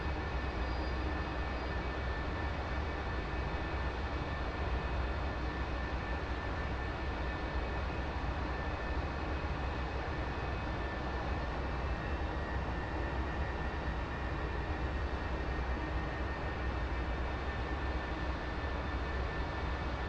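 An F-4E jet in the DCS combat flight game rolls heavily loaded down the runway, a steady broadband engine roar with a faint whine holding at an even level for the whole stretch, with no talk.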